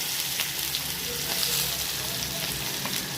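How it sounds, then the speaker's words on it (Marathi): Chopped onion fries in hot oil in a kadhai, giving a steady, close sizzle with a soft crackle that continues evenly throughout, no voices over it. "आपण त्यात टाकूया एक मोठा चिरून घेतलेला कांदा"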